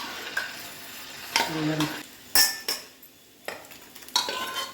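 A bottle gourd and cowpea tamarind curry being stirred in a pot, with several distinct scraping and clinking strokes of a spoon against the metal, spread out with quiet pauses between them and no talking.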